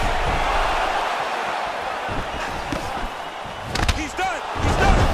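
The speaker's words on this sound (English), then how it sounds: "And you hear the crowd." A crowd roars steadily in EA Sports UFC 4 during a fight, a dense wash of noise that swells toward the end alongside commentator voices and a few sharp impact thuds.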